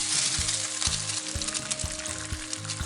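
Eggs fry in oil for Mehsana-style Anda Gotala, a close steady sizzle broken by regular soft knocks of a spoon basting oil over the top.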